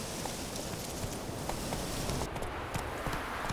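Geralt's horse Roach gallops in The Witcher 3, with quick, steady hoofbeats under rustling ambience, moderately close and continuous.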